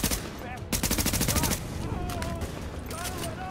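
Rapid bursts of close automatic gunfire in Tom Clancy's The Division, a fast rattling volley followed by quieter scattered shots under a voice speaking.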